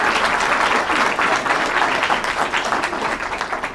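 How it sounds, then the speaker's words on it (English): Crowd applause during Governor Ferguson's bill signing, loud close clapping that runs steadily and starts to thin and turn patchy toward the end, with no speech over it. "Please give them a big round of applause."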